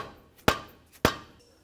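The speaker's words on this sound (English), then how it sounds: "I'm just going to use my mallet here and I'm going to tap this in." A mallet tapping a CV axle onto the shaft splines of a 2004-2008 Acura TL, two sharp, close knocks about half a second apart, each followed by a short ring, with no voices.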